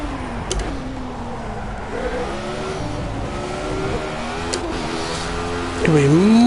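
A Formula A open-wheel race car in Project CARS revs hard in second gear, its engine note rising and falling steadily, then climbing sharply near the end, loud and continuous while someone talks over it.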